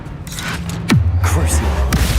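Confringo spell blasts in Hogwarts Legacy, a sharp whooshing burst that sweeps down into a heavy low rumble, followed by a second fiery crack, with a voice calling out the spell over the top.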